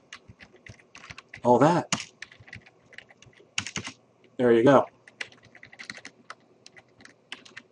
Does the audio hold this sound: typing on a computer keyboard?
yes